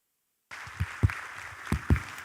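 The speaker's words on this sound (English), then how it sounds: "Another round of applause." Applause begins abruptly from silence in a conference hall at the Africa Emerging Markets Forum, a faint, even patter of hands with a few louder low thumps scattered through it.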